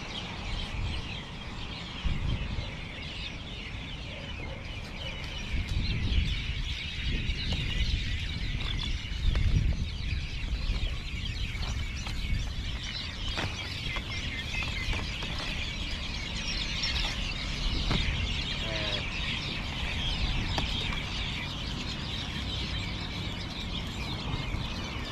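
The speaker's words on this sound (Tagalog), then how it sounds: "Pakinggan yung mga ibon ang iingay nila no mga kabida." Outdoor birds call noisily in a dense, continuous chorus of chirps and squeals over steady background noise, with no talking.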